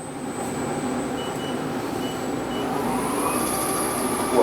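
TRAK 3-axis CNC bed mill spindle running at 200 RPM in low gear, a steady mechanical hum and whine with a faint high tone rising near the end, close and continuous.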